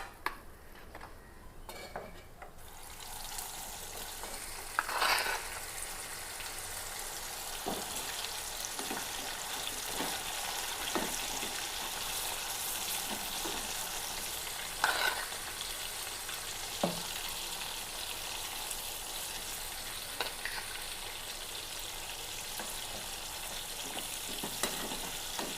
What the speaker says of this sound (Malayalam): ഇങ്ങനെയെല്ലാം നമുക്ക് വറുത്ത് കോരാട്ടോ